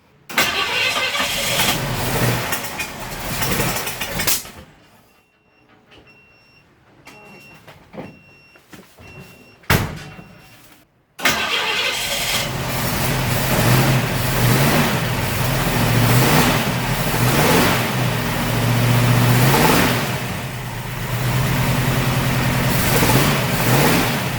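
A car brought back to life with a portable jump starter and starting fluid cranks and roars loudly, revving hard. The engine drops to near silence for several seconds, then fires again and keeps running loud and steady.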